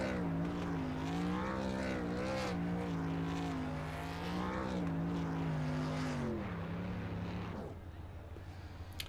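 Race truck engines in the iRacing Truck Series at Martinsville, a loud droning engine note rising and falling with throttle for several seconds, then fading, with a voice heard faintly underneath.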